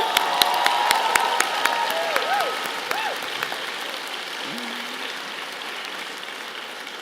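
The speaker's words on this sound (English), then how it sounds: "Can we just also have a round of applause for all the cute babies and children who came up this year?" A convocation audience applauds steadily, a broad wash of many hands clapping with a few distinct near claps and faint vocal cheers, fading slightly over several seconds.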